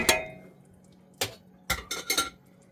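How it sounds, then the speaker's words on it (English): A whisk clinks and scrapes against a pot as flour is worked into cooking onions and celery, with a few sharp metallic strikes spaced out over a couple of seconds, close and fairly quiet, with no talking. "I'm going to take my flour and I'm going to whisk it in."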